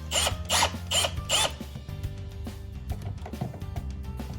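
A USB wall outlet being screwed into an electrical wall box with a screwdriver, close mechanical scraping and clicking that is loudest in a few rhythmic bursts at first, then lighter turning clicks.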